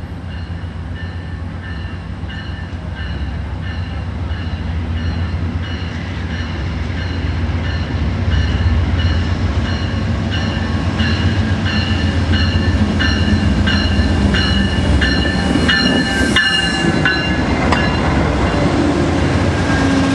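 Amtrak Coast Starlight passenger train rolling slowly over a trestle into San Luis Obispo, a loud continuous rumble with rhythmic wheel clicks and rising metallic squeals from the wheels, no voices.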